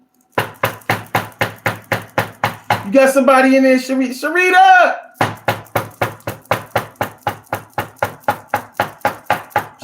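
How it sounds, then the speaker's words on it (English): Fist knocks on a door in a steady, loud series of about twenty rapid blows, stopping while someone shouts, then starting again. "Man, you hear me knocking. Answer the door"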